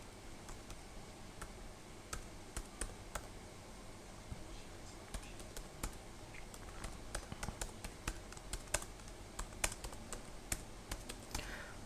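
Someone types on a computer keyboard, entering a doctor's name, with quiet, irregular clicks and taps spread over several seconds against a faint background.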